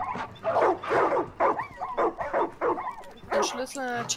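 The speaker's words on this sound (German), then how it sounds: "Seid mal eine still hier, Hunde!" Dogs in the Far Cry 5 video game bark in rapid, loud bursts nearby, ending in a drawn-out whining yelp, while someone talks over the racket.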